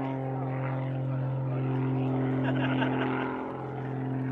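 A Zivko Edge 540 aerobatic aircraft drones steadily overhead with its propeller engine, holding a strong sustained tone that dips briefly near the end as it manoeuvres, loud and continuous throughout.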